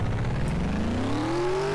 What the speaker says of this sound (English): That sounds good, but I think that's a stock sound.